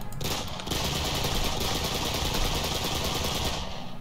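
Rapid automatic gunfire from a modded Minecraft weapon in a video game, a fast continuous burst that fills almost four seconds before cutting off abruptly.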